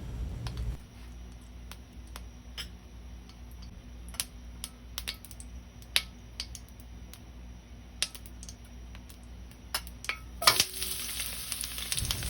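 Garlic sautés in about two tablespoons of hot oil in a pan, a steady close crackling sizzle dotted with sharp little pops and ticks, swelling into a louder, brighter burst near the end; no one speaks.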